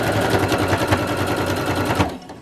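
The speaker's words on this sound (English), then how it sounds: "Sew all the way down, backstitch again." Domestic sewing machine stitching a backstitch while sewing an apron, fast rapid-fire needle clatter running steadily and loud for about two seconds before stopping abruptly.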